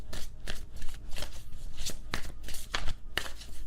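A clarifier deck of tarot-style cards is shuffled by hand in a quiet room, giving a close run of soft riffling bursts and sharper slaps repeating in an irregular rhythm.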